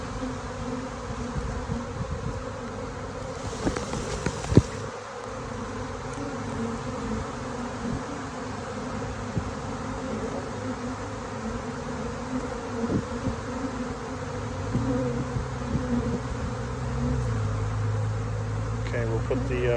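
Honey bees buzzing around an open hive, a continuous low hum of many wings with a steady background drone and occasional louder passes, with a brief rustle midway and a mechanical tone near the end.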